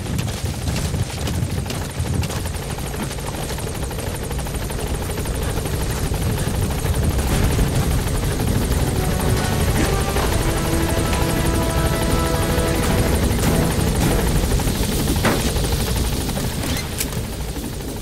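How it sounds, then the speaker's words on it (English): A support helicopter in Metal Gear Solid 5: The Phantom Pain flies close by, its loud, steady rotor thumping and turbine roar continuing throughout with no talking. "Support helicopter has arrived."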